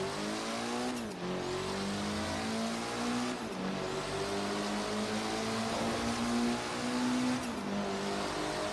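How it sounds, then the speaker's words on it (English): A turbocharged Mitsubishi Lancer in Forza Horizon 3 drones loudly through a tunnel, revving up through the gears with brief dips at each shift, where a quick hiss from the blow-off valve escapes. "Little blow-off valve sound there."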